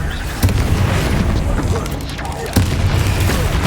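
Confringo spell explosions in Hogwarts Legacy, heavy booming blasts landing twice in quick succession over a rumbling game soundscape, loud and close.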